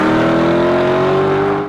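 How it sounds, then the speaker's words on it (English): A Lexus LC 500 V8 engine revs loudly and steadily, its sonorous tone rising slightly in pitch for under two seconds before cutting off abruptly, with no voices present. "And then if it's the V8 version, you hear it, and it's just sonorous."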